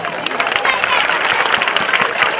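A school annual-function audience applauds after a Rajasthani folk dance performance: dense, steady clapping from a large crowd fills the whole stretch at an even, loud level.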